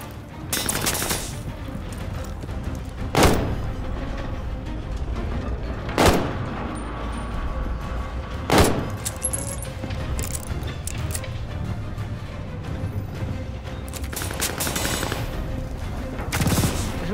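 Sustained gunfire in Call of Duty Vanguard, a constant rattle of weapons punctuated every few seconds by louder sharp shots and booms.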